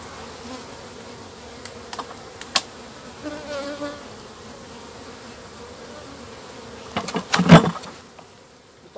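Honeybees buzz quietly around a hive, a soft steady hum with a few louder passes close by, especially toward the end.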